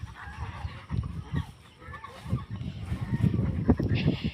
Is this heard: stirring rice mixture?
no